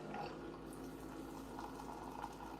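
Hot water poured over fresh nettle leaves to steep for soup, a steady continuous splashing pour that runs evenly throughout at close range.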